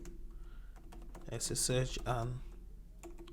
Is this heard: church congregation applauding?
no